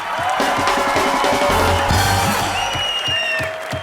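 Studio audience on the comedy talk show Comedy Nights With Kapil applauding and cheering for Shah Rukh Khan, a loud sustained crowd roar with clapping, whoops and a brief musical sting layered in.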